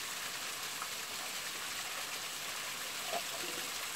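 Fresh cold spring water on Mount Wellington runs steadily into a container, giving a constant soft hissing trickle at low level, outdoors and without voices.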